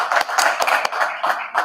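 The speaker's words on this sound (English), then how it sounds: "if we can just give them a round of applause as they're coming to the stage" An audience at an annual conference applauding, a dense close wash of clapping with uneven surges, continuous for the whole stretch.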